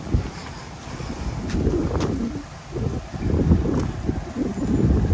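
Outdoor wind gusting against the microphone, a rough low rumble that swells and eases over several seconds, loud and close, with faint bird calls in the background.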